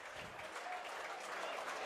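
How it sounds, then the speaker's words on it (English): A rugby league crowd applauds the Rovers scrum half Logan Astley as he leaves the field during a Swinton Lions home match, distant steady clapping across the stands at a low level. "a big applaud here for the Rovers scrum half, Logan Astley, coming off the field"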